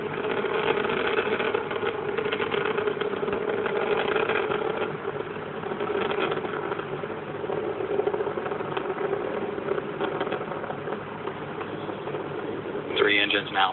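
A steady, dense roar from Space Shuttle Endeavour's three main engines during ascent, throttling down through maximum dynamic pressure, rumbles continuously throughout, with a brief sharper burst near the end.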